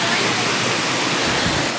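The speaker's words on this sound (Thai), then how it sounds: "อันนี้บริเวณน้ำตกตรงนี้" Kaeng Yui waterfall in Vang Vieng, Laos, roars as a steady, dense rush of falling water that stays loud and unbroken throughout.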